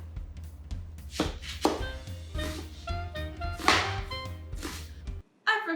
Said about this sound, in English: Make sure you chop off both ends of the onion and peel it.